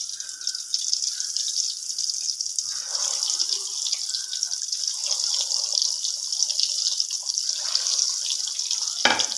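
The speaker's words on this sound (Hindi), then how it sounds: "अब इन्हीं को हम फ्राई कर लेंगे ऑयल में" Marinated eggs frying in hot oil in a pan for an egg and potato curry, giving a steady, close crackling sizzle that holds evenly throughout.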